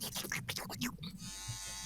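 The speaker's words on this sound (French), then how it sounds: "Du coup, évidemment, je me rase." A man shaving his face with an electric razor, a buzzing motor hum with brief breaks as the head moves over the skin, close and fairly quiet, with some talking mixed in.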